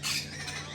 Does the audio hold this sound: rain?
no